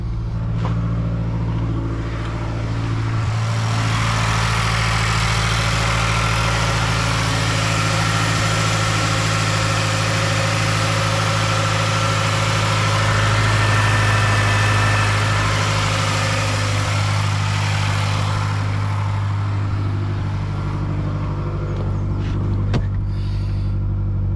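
A car engine idles steadily at close range for the whole stretch, a constant low rumble with a faint higher whine and no talk over it.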